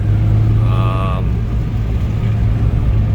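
A 2005 Acura RSX Type S with new rear coilovers and camber kit, heard from inside as a steady loud road and engine rumble, with a brief tonal whine rising midway.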